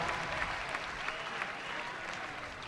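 A college baseball crowd at Arkansas versus Ole Miss applauds in a steady, broad wash of clapping that holds at an even level throughout, heard at some distance.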